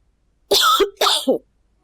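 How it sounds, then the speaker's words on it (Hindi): Two harsh, close coughs in quick succession, the second one breaking into a shorter hack, with silence before and after. "क्यों नहीं रुक रही है खांसी?"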